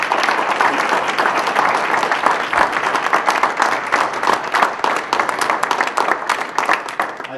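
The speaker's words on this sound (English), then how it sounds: "I'd just like to see a big round of applause for all 10." An audience claps steadily for all ten candidates at a gathering, dense sustained applause filling the room throughout.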